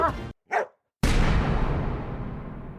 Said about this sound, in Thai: เจ้าบุญรอดที่เห่าเสียงดังรัวๆ